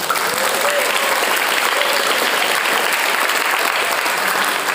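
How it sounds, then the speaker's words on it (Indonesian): Sustained applause from a student audience at a motivational school assembly, dense and steady for the whole stretch with crowd noise mixed in and no speech standing out. "berikan tepuk tangan kita untuk Nusantara"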